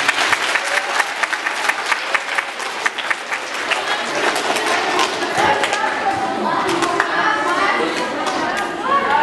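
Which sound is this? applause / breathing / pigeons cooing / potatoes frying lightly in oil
applause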